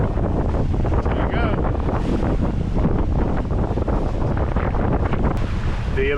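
Strong wind buffeting the microphone aboard a sailboat in rough seas between St Lucia and Bequia, a loud constant roar with rushing water and wave wash underneath, and a brief voice toward the end.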